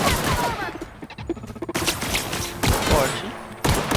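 Gunfire in The Outer Worlds, with close rapid shots and bursts that alternate with brief lulls, someone talking over parts of the fighting.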